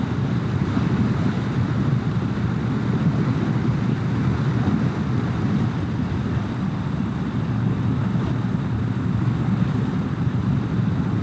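Wind roars in a dense, continuous rush against the microphone during a Honda Rebel 1100 motorcycle camping trip on the Shenandoah Skyway, steady and loud with no talking.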